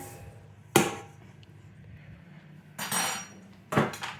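Ingredients for an old school cake being mixed together in a bowl: three sharp, separated clinks and knocks of a utensil against the bowl, with quiet pauses between them and no talking.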